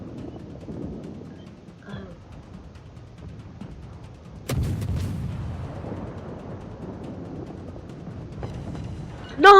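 Warship guns fire in the War of Warships game: a heavy booming blast lands midway and trails into a sustained rumble, with another sharp burst at the very end over low background noise.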